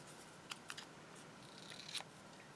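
Scissors snip through paper for a junk journal page, a few quiet, separate cuts with a brief run of snips near the end, close and alone.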